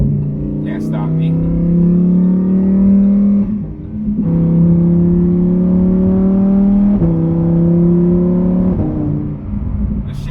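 A Lamborghini Huracan EVO, an all-wheel-drive supercar, revs loud and close as it accelerates along back roads, its engine note climbing through gears in repeated rising pulls with brief dips at the shifts.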